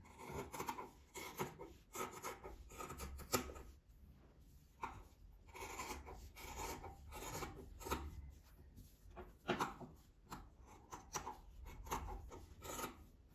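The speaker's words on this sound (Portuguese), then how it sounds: "Agora eu vou cortar esses excessos de tecido." Scissors trim excess fabric from a sewn mug rug, producing quiet, repeated rasping snips in irregular bursts with brief pauses, close by and with no talk.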